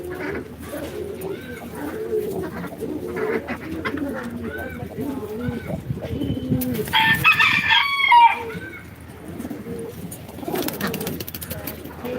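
Close, repeated low cooing of pigeons in a throaty rhythm, with a brief burst of rustling or flapping midway.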